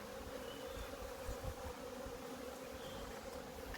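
Honey bees swarm around an open hive during an inspection, producing a dense, steady, close droning hum with no break or speech.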